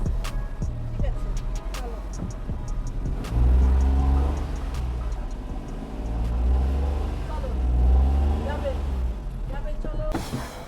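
A car engine revs in rising and falling surges as the car is driven up from beside a drain onto the road, with people talking over it.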